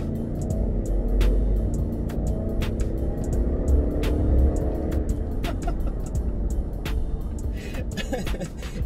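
A 2021 GMC Yukon Denali V8 pulls away on a test drive, a steady low engine drone with broadband road and wind noise building gradually, heard from inside the cabin with no voices over it.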